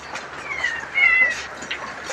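A cat meows a few times, one drawn-out call in the middle, over steady soft background hiss; nearby and moderately loud.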